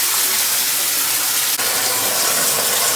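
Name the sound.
water filling 4000 gallon shark aquarium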